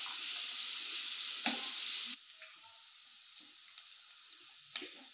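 Chopped onions sautéing in a pan toward golden, a loud continuous sizzle that drops abruptly partway to a quieter hiss, with a few scraping stirs.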